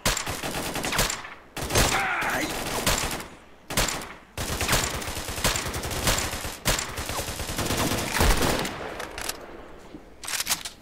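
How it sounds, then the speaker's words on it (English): Rapid bursts of SVD sniper rifle fire and other gunshots in the game S.T.A.L.K.E.R. Call of Chernobyl, loud, repeated cracks clustered in volleys with brief gaps between them. "That sounds like an SVD."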